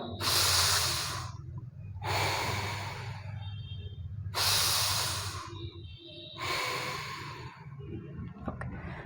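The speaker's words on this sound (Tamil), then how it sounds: "நல்லா மூச்சு இழுத்து விடணும்" Slow, deep yoga breaths while lying down, four long airy inhales and exhales in a steady rhythm, close and fairly loud over a low background hum.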